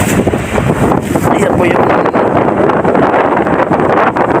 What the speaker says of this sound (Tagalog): So malakas pong hangin.